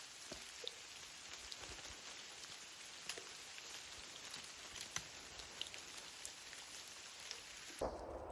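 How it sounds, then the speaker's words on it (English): Rain falling during a hike: a faint, steady hiss of rain with scattered drops tapping nearby, continuous throughout and with no voices. "Yeah, it's raining."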